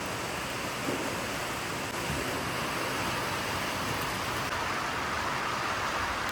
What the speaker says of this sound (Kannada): ಇಲ್ಲಿ ಬರ್ತೈತೆ ಮಳೆ ಇವಾಗ.